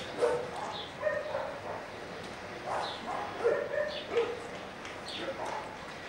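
A dog being trained whines and gives soft, high yips in short scattered bursts. The sounds are fairly faint and close, with some quiet speech in the background.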